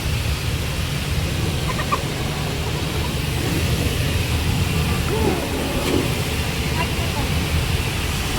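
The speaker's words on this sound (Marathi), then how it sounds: "गाडी वॉश करणं चालू आहे सध्या." A car being washed with running water gives a steady, broadband spray hiss that continues for the whole stretch, with voices faintly in the background.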